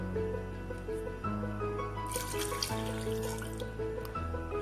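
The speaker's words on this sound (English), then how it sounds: "Now we'll be putting water into it" Water from a tap pours into a pot of rice being cooked, a steady trickling rush under a constant low hum from the stove or kitchen, with no talking.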